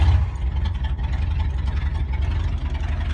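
A 1979 Ford F100 pickup, three-on-the-tree manual, with its choke cable disconnected, running loud and close after starting, a steady low rumbling idle with uneven pulsing throughout.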